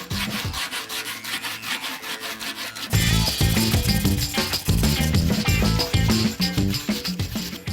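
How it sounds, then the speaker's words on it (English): Body filler sanded with 36-grit paper on a flat sanding block, giving steady, rhythmic rasping strokes that are loud and close and grow stronger partway through. "36 grit on a nice flat sanding device."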